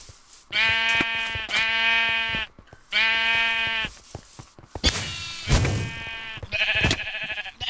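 Sheep in the Minecraft video game bleat again and again in short bursts, first a run of clean repeated bleats, then rougher overlapping ones with thuds mixed in, fairly close and with no talk.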